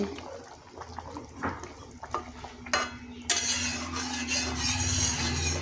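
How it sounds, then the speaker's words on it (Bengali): Snakehead fish for aamshol, a mango fish curry, goes into hot oil: stirring clatter and a mild sizzle first, then a sudden bright, steady frying hiss takes over and holds for the rest. "আমি এবার মাছ আমি দিয়ে দিচ্ছি, এই যে শোল মাছ"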